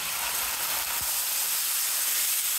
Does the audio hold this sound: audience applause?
no